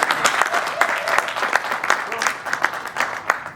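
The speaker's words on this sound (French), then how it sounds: "Est-ce qu'on peut acclamer très fort?" Wedding guests in Paris break into loud, dense applause, a steady wash of clapping with scattered sharper claps and faint cheers that carries on without pause.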